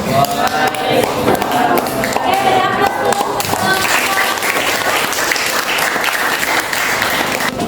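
Loud, sustained applause from a classroom audience after a group presentation, dense clapping filling the room without break, with voices faintly mixed in.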